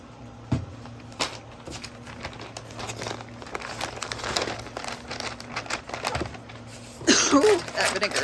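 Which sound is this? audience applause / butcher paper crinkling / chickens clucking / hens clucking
butcher paper crinkling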